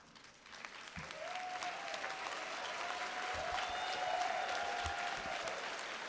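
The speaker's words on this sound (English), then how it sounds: "please rise and applaud them for their success" An audience at a Keiser University Tallahassee 2022 commencement applauds honors graduates, broad sustained clapping that builds and holds, with a faint tone running through.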